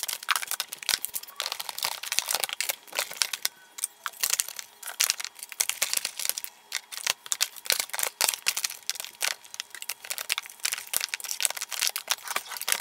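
Plastic eyeshadow palettes are shuffled and slid into a drawer with a steady run of close crinkling, tapping, clacking and scraping sounds, busy and irregular, with no voices.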